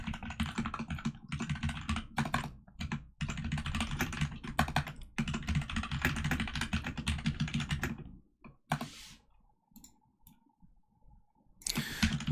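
Code being typed on a computer keyboard in a steady flurry of close keystrokes with brief pauses, then stopping into near silence before a final burst of clicks.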